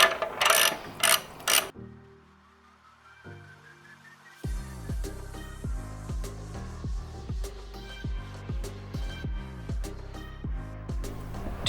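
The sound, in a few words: ratchet loosening bolts on motorcycle mufflers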